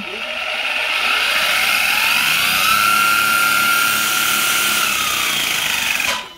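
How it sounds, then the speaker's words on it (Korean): A VRX Cobra RC buggy's small engine revs indoors, a loud, steady high-pitched buzzing whine that holds for about six seconds before cutting off abruptly. "실내에서 하니까 잠깐 공회전만 하고 추구하도록 하겠습니다"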